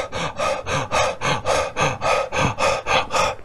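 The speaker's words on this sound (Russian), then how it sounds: "начинаю активно дышать" During a yoga exercise a person breathes actively and forcefully, roughly a dozen rhythmic, evenly spaced loud breaths in quick succession, close and alone.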